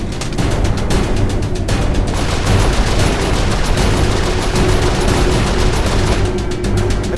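Sustained turret gunfire from the video game Saints Row IV, a loud, continuous rapid-fire barrage that keeps going without pause, with mechanical clatter mixed in.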